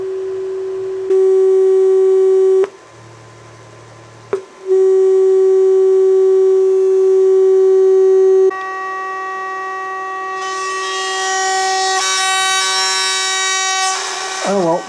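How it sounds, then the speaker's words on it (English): A 400 Hz test tone played through a 500 watt amplifier and speakers: a loud, steady pure hum that cuts out briefly, returns, then turns harsh and distorted toward the end as the speaker overloads, with no voices. "we'll put some tone in there. About 400 hertz."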